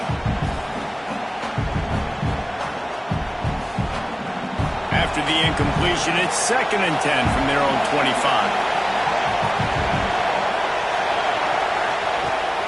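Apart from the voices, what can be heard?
loud home stadium crowd in a college football video game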